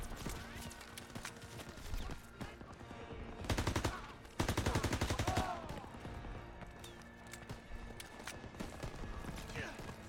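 Gunfire in the World War II shooter Call of Duty WW2 during the D-Day campaign, rattling bursts of rapid shots rising over a busy battlefield din, moderately loud.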